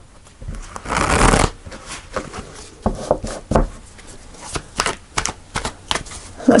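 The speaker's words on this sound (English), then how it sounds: "Let's clarify the cards and go deeper into the message for our lovely Leos." Tarot cards being shuffled by hand at close range, one dense riffling burst followed by a series of sharp, uneven card slaps and flicks, with no talking.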